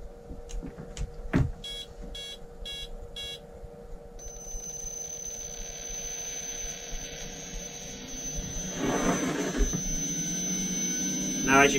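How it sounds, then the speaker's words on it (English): A gyro in a SkyRC SR5 1/5-scale remote control motorbike spins up, a rising electric whine that builds steadily in pitch and loudness, preceded by a few short electronic beeps. "now, if you listen to it, this is just the gyro starting"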